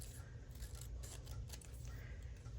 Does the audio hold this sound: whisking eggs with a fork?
no